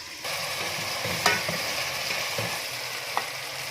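Chakotry vegetable cooks with chopped tomatoes in a covered pan, giving a steady, moderate sizzle with a couple of faint clinks.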